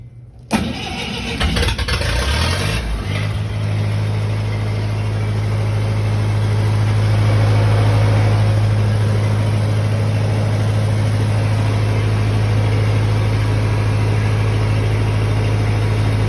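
A Lincoln SA200 welder engine catches after a cold start, coughing through a rough burst before settling into a steady, loud, low idle that drones on alone without any talk.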